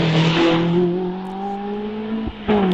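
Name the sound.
Caterham 7 race car engine at hillclimb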